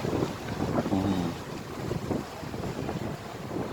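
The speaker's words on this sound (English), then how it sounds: "It's a bit windy today" Wind buffets the microphone in steady gusts, producing a rough, blustery rumble throughout with no speech.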